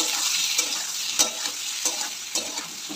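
Salt and turmeric being stirred in a hot cooking pan: a steady sizzle of frying with several distinct scraping strokes of the spoon, close up.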